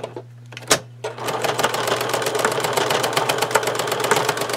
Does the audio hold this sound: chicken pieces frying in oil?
no